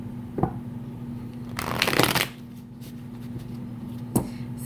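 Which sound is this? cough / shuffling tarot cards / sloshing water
shuffling tarot cards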